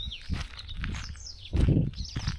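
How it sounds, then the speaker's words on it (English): Birds call and chirp outdoors in a Kenyan village along a road in Tetu, Nyeri, bright whistled notes over a low rumble of movement and footsteps, moderately close. "Just listen to the birds."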